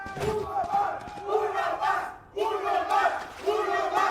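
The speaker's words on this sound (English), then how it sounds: "The chants from the crowd could not be more accurate. Uno Mas is all it takes." An esports arena crowd at a Valorant Champions Tour Americas match chants "Uno Mas" in rhythmic, repeated bursts, loud massed voices rising and pausing in a regular cadence.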